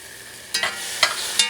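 Grated tomato and garlic frying in a pan give a steady hiss broken by three quick spatula scrapes as the mixture is stirred, close and clear.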